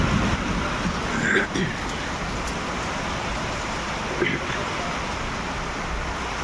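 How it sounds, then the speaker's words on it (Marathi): Heavy rain falls steadily as a dense, continuous wash of broadband noise at even loudness, with no voices over it. "हे बघा पाऊस चालू आहे चांगला पाऊस चालू आहे"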